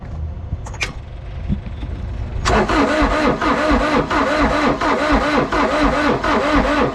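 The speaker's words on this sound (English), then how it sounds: "I'm gonna go ahead and crank this over." A side-by-side UTV bought at auction cranks over after a second of quiet, its starter churning in a loud, steady rhythm that continues to the end without catching.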